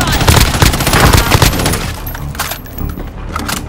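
Rapid automatic gunfire in a shooter game, loud and dense for the first couple of seconds, then thinner scattered shots with faint voices underneath.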